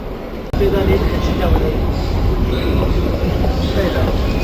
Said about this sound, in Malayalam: നമ്മൾ മെട്രോ സ്റ്റേഷൻ്റെ അടുത്തെത്തിയിട്ടുണ്ട്. മെട്രോ സ്റ്റേഷൻ്റെ ഉള്ളിലാണ്